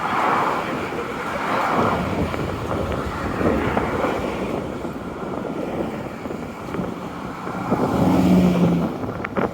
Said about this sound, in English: It's so noisy, isn't it, with all the cars?